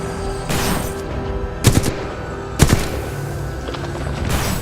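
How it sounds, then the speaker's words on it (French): Gunfire from a robot in the video game Titanfall 2: loud bursts of shots recur several times across the clip, with a booming impact in between, over game background noise and no speech. "Le robot me tire dessus."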